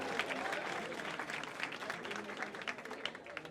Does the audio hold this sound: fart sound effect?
no